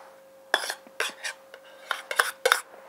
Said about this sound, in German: Das Ganze jetzt wieder gut durchmischen.